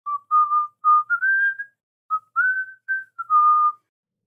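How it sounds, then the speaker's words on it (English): A girl softly whistles a simple wandering tune, a few short clear phrases with brief pauses, heard alone in quiet surroundings at the mouth of a cave. "She's quietly whistling to herself as we get to the mouth of the tunnel."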